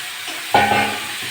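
Potatoes dropped into hot oil and fried spice paste for a pangas fish curry, a sudden close sizzle bursting up and then settling into steady frying with light stirring.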